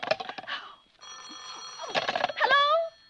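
A telephone bell rings steadily in a 1948 suspense radio drama, a close, bright mechanical ring that overlaps a voice speaking before and after it.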